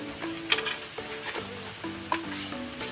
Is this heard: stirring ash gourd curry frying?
yes